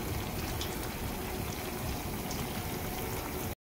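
Chakli frying in hot oil: a constant sizzling, bubbling hiss fills the clip without any talk, then cuts off abruptly.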